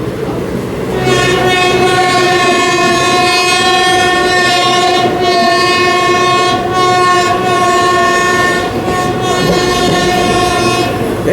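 An express train from SMVT Bengaluru passes through Whitefield railway station, its horn sounding loud and sustained across most of the stretch over the close rumble and rattle of the moving cars.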